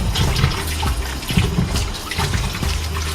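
Ginger is rinsed under running tap water, a steady close splashing and trickling stream with small irregular spatters, and no speech.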